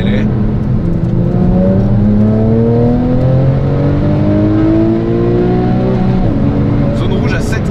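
A Porsche 911 Carrera GTS with a naturally aspirated engine revs hard, pitch climbing steadily through the range before a brief gear change and renewed pull, loud and close, with someone talking over it.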